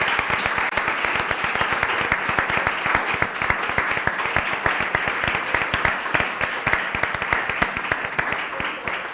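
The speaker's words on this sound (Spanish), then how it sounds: "Un aplauso." An audience at a literary talk applauds, a steady run of many hands clapping with crisp rhythmic peaks, loud and close, continuing for the whole stretch.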